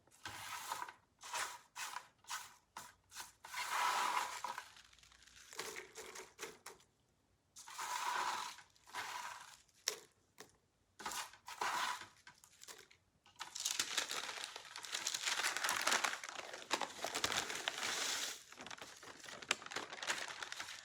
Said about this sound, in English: So I'm going to put these in the food processor also.